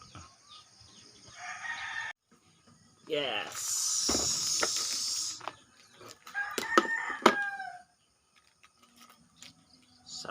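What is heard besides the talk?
roosters crowing and chickens clucking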